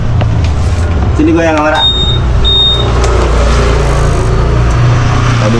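A motorcycle engine with a leaking exhaust idles loud and close with a steady low rumble throughout, while people talk over it.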